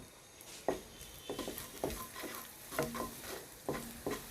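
Garlic cubes and chopped ginger fry in oil in a pan for spicy pasta, with a steady soft sizzle and about a dozen sharp scraping stirs of a spatula, close and unaccompanied.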